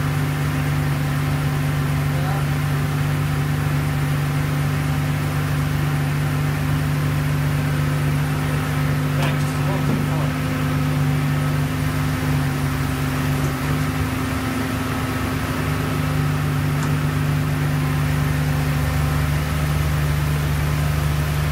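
A Dodge Dakota's engine idles steadily and close up, a constant low hum with a faint whine above it running unbroken the whole time, no voices.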